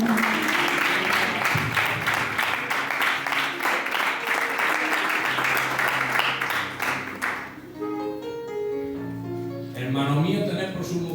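Strong applause fills a church congregation for several seconds before fading, with organ or keyboard tones and a voice rising beneath it.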